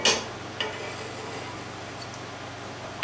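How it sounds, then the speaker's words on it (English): Milk gravy bubbles softly in a pan with a faint, low simmer. A spoon knocks the pan at the start and again near the end. "we're going to let this bubble for about 3 to 4 minutes, and it'll be gravy"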